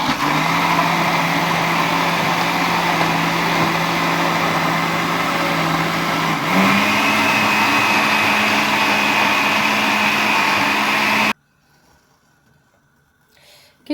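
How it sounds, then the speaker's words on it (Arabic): A blender purées boiled lentils for Egyptian lentil soup with a loud, steady whirring drone. Its pitch shifts partway through, then the motor cuts off abruptly, leaving near silence. "بعد ما سلقنا العدس والمكونات اللي فيه فهنضربه في الخلاط"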